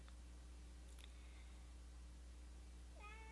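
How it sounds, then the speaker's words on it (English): A domestic cat meows faintly indoors, a few short calls near the start and another near the end, over a steady low hum. "Oh, you might be hearing my cat Gus."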